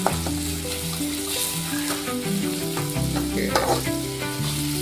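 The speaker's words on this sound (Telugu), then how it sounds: "టమాటా బాగా ఫ్రై అవ్వాలా?" Tomatoes frying in a pan for a village-style chicken curry give a loud, close, continuous sizzle with stirring scrapes throughout and no talk.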